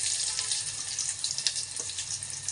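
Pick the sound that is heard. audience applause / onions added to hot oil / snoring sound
onions added to hot oil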